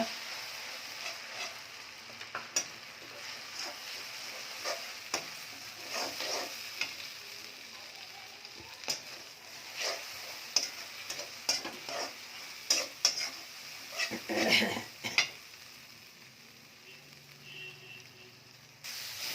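Onion frying in a pan with ginger-garlic paste and dry chili paste, a continuous close sizzle punctuated by irregular stirring scrapes and clinks, easing toward a quieter hiss near the end, with no talk.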